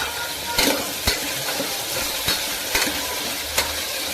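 Potato and eggplant pieces frying with tomato masala in a hot pan for sambar, a steady loud sizzle with occasional stirring knocks and scrapes, close by.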